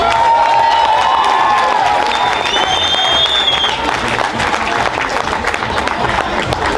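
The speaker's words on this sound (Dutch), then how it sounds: "Jullie applaus." Crowd at a carnival prince ceremony applauds with loud, continuous clapping and cheering, while high whistles sound over the dense clapping early on.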